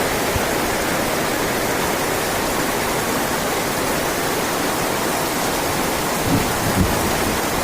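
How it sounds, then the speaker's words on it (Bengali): Heavy rain pouring down in a continuous, loud, dense hiss with a low rumble beneath, steady throughout with no speech. "প্রচুর পরিমাণে বৃষ্টি হচ্ছে।"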